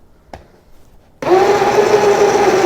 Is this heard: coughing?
no